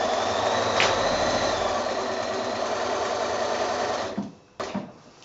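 A sewing machine stitches binding onto a quilt with a steady close whir for about four seconds, then slows and stops near a corner with a couple of brief handling knocks, no talk.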